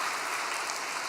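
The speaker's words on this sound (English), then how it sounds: "Let's give them a big round of applause." Brief burst of dense applause from a church gathering audience, steady clapping heard for just over a second with no voices over it.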